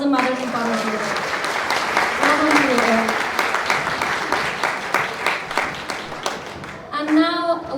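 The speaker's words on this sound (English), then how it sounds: "So big round of applause for all the mothers and fathers here." An audience at the British Hazara Award 2023 ceremony in Birmingham gives the mothers and fathers a loud, sustained round of applause, with a speaker's voice heard briefly at the start and again near the end.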